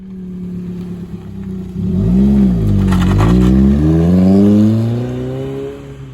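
A Fiat Panda 100HP accelerates on the road, its engine note climbing and falling through the gears as it revs, loud and close with a whirring tone and no talking.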